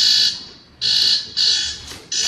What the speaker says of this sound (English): Oh, I thought that was the fire alarm.